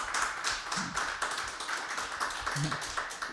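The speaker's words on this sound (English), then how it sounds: "please give them a round of applause." A small audience at a panel event applauds people called up on stage, steady moderate clapping with distinct taps and a few murmuring voices underneath.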